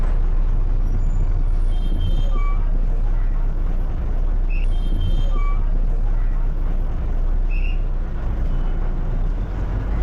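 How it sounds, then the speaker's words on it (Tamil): A city bus in Chennai pulls to a stop with a loud hiss of air brakes over a steady engine rumble and surrounding traffic noise, heard from on board. "இப்போது பஸ்ஸு நிற்கிறது"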